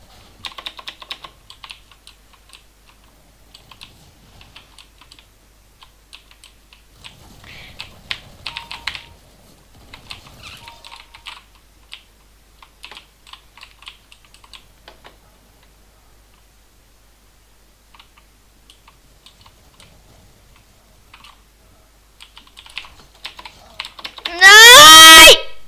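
Light, irregular clicking of a computer keyboard being typed on in bursts during a Counter-Strike session, faint and close, ending with a sudden loud burst of sound.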